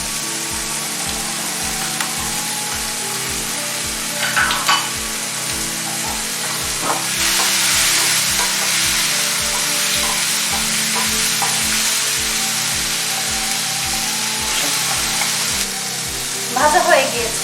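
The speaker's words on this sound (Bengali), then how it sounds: "এবার দিয়ে দিব কিউব করে কেটে রাখা পেঁয়াজ টমেটোগুলো, এবার দিয়ে দিব ক্যাপসিকামগুলো," Cubed onion, tomato and capsicum fry for a spicy chicken curry, a loud continuous sizzle with regular stirring scrapes. Brief clatters of the utensil against the pan punctuate it near the middle and the end.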